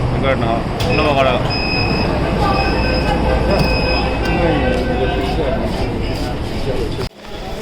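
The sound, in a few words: metro train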